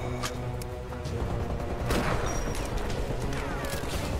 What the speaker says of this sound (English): Okay, shoot the barrel.